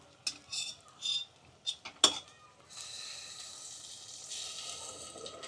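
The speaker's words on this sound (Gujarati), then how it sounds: "હવે આપણે આમાં પાણી નાખી દેવાનું છે" Water streams into a pot of stuffed capsicum curry as a steady pour, preceded by several sharp clinks of a utensil against the cookware, close and moderately loud.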